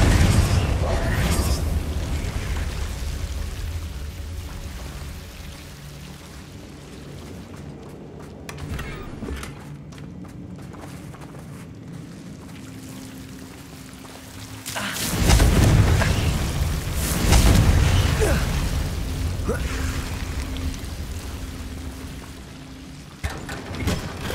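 A Confringo fire-blast spell in the Hogwarts Legacy video game erupts as a sharp, broad explosion partway through, then rumbles and crackles away over a softer, steady game ambience.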